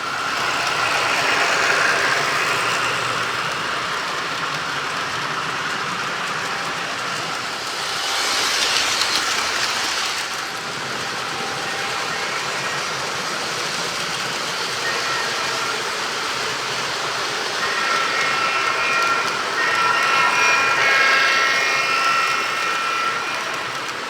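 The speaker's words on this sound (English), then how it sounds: "The newest model train in my group, number 8472 of the Chessie system, pulls a somewhat short freight train." A Chessie System 8472 model train pulls a short freight train around a layout, giving a steady rolling rail rumble with light clickety-clack that swells slightly twice, with no talk.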